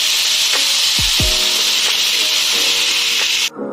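Tomato paste frying with ginger garlic paste for a homemade fish dish, heard as a loud, steady sizzle with a few stirring scrapes before it cuts off abruptly near the end.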